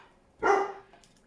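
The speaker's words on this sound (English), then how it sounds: "Oh, that dog." A dog gives one sharp bark at moderate distance, then falls quiet, with a faint room tone around it.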